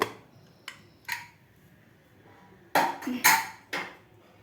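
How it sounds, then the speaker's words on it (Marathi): A pressure cooker lid is lifted off and set down after the cooker has cooled from cooking a traditional colocasia-leaf curry: a couple of light metallic clicks, then a louder cluster of clanks and scrapes close by, with no talk. "आणि कुकरसुद्धा आपलं थंड झालेलं आहे तर आपण झाकण काढून घेऊया"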